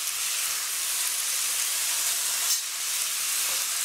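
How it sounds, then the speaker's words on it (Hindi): Fried paneer tossed into a hot pan with soy sauce, sugar and Ajinomoto for chilli paneer gives a steady, close, bright sizzle that hisses evenly throughout with no voices. "अभी मैं पनीर भी इसमें डाल रही हूँ जो मैंने फ्राई किया था"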